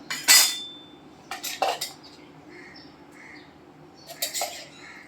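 A metal tablespoon clinks against a pan while ghee is added to roasting semolina, a few sharp close scrapes and taps separated by quiet pauses.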